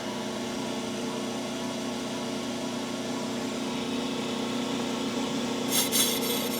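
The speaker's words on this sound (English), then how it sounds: "I just hear it cutting there" A brake lathe cuts a drum brake with a steady, continuous scraping rasp over a low machine hum, with a brief brighter scratching near the end.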